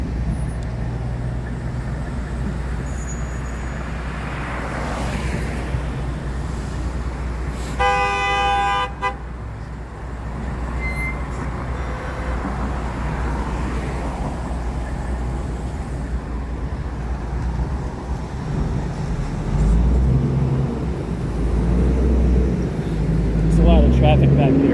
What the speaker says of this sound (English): There's a lot of traffic over here.